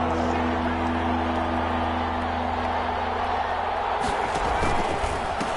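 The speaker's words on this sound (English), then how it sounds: "this crowd's going to get even louder" Stadium crowd noise in an American football video game on PS4, a steady roar of cheering throughout with a sharp burst of clamor near the end, under continuous play-by-play commentary.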